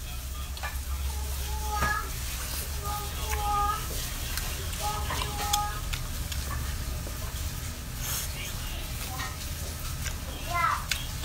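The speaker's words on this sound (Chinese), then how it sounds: "煎大肠。" Pork intestines sizzle and spit on a hot griddle at a street food stall, a steady close crackling hiss with a low hum beneath and scattered background voices.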